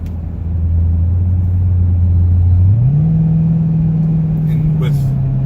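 A 2009 Cadillac CTS-V with a 500-plus horsepower engine pulls away, a loud steady drone that climbs in pitch as it accelerates and then holds a higher note, heard from inside the car.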